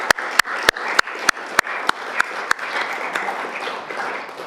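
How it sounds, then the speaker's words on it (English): A small forum audience applauds council candidates with a few sharp, evenly spaced claps that lead into a steady, moderate round of clapping, which then gradually thins out. "I think I'd be very grateful to you if we gave these people a round of applause for everything they've done so far."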